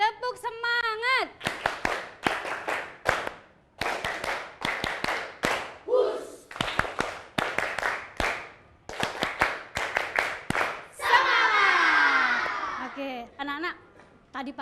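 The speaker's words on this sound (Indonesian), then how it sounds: "kita tepuk semangat yuk, biar kita tambah semangat." A fifth-grade elementary school class performs a rhythmic clap chant, sharp clusters of claps in repeating patterns separated by brief chanted or sung voices, close and lively in a classroom.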